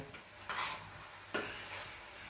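Raw mango chutney stirred in a pan over low heat gives two brief, faint scraping strokes over a quiet background with a soft sizzle.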